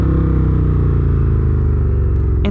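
A 2019 Indian FTR1200S motorcycle engine runs loud and close with a steady, throbbing rumble and dense harmonic drone, holding nearly constant throughout before a brief rattle at the very end.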